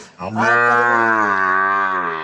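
A young cow moos once at a cattle farm, a loud, close, sustained low call lasting about two seconds and trailing off slightly at the end.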